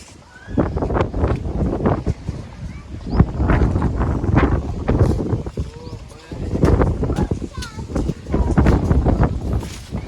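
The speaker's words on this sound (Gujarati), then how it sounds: "તો આજે પવન જ એટલો બધો છે ને કે એક પતંગ ચગતી જ નહીં" Strong wind buffets the microphone in loud, rumbling gusts that rise and fall throughout, with faint voices underneath, during Uttarayan kite flying.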